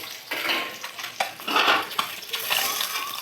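Spiced fried eggs for dim kasa are lifted out of a frying pan one by one, giving close, irregular metallic scrapes and light clinks of a spatula against the pan with brief sizzling hiss.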